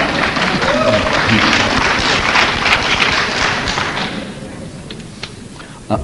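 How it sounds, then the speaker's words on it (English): Lecture audience breaks into dense, sustained applause mixed with murmuring, loud for about four seconds before thinning out and fading to scattered sounds. "Applause from some, angry murmurs from the school administrators that are in the audience."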